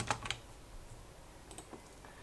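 A computer keyboard is typed on in short bursts, a quick cluster of clicks at the start followed by a few scattered, fainter keystrokes, close and quiet.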